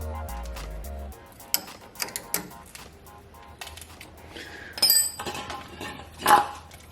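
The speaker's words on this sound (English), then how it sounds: "So what I'm going to do is just close off the bleed nipples here." Brake bleed nipples on a Ford Ranger are tightened shut, giving a few faint, brief metallic clicks and ratcheting ticks against a quiet background, with no talking.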